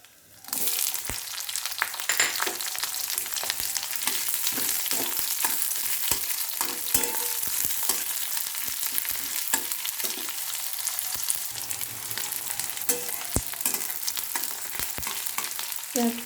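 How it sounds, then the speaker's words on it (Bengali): Onions fry in hot oil with black cumin and bay leaf in a pan, giving a loud, dense, continuous sizzle. Frequent scrapes and clicks of stirring run through it. "পেঁয়াজ ভাজা হয়ে গেছে,"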